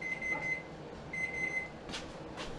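A kitchen timer alarm going off while potatoes cook, repeated bursts of high beeping with a pause between them, fairly faint over quiet room noise.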